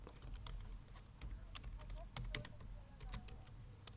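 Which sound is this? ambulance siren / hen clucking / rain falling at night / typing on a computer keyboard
typing on a computer keyboard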